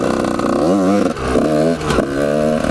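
A motorcycle engine revs hard during wheelie riding, its pitch climbing and dipping with throttle blips and a brief lull before reaccelerating; the loud, close engine note runs continuously with no talking.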